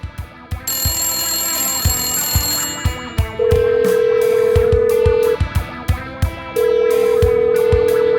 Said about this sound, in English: he doesn't hear the phone ring